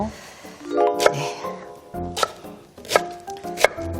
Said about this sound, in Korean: 그래도 이특 씨도 이제 칼질도 예전보다 훨씬 더 좀 늘었나요